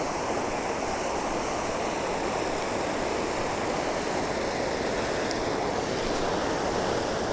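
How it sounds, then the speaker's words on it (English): Water pouring freely over a spillway on a Texas river near Menard, a loud, steady, close roar of rushing water filling the whole stretch without pause or voices. "Water might be kind of loud over here. It is a spillway. It is flowing freely."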